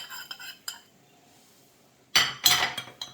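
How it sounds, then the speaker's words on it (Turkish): Cornstarch and sugar stirred in a bowl, heard as a few light utensil clinks, a quiet pause, then a louder burst of rapid metal-on-bowl scraping and clinking, close up. "Şimdi bir karıştırıyoruz."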